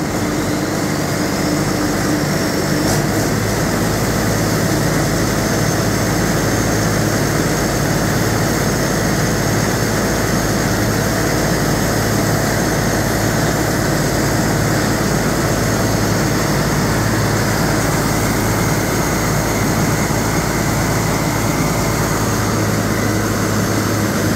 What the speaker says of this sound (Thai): ติดง่ายครับเครื่องยนต์ฮีโน่ครับผม